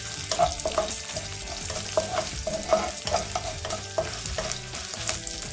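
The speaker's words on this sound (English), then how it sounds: "and some curry leaves. I'm going to saute it for a little bit." Curry leaves and dry chili sauteing in a pan over a high flame for masala dosa, a steady sizzle with frequent scraping stirs and clinks running throughout, no voices.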